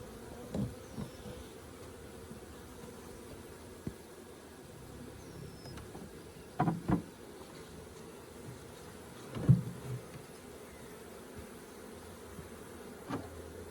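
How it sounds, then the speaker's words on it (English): A honeybee swarm hums in a soft, steady buzz close by, being put into a box, with occasional louder bumps and knocks breaking through the quiet drone. "Let's get the rest of these bees put back in here."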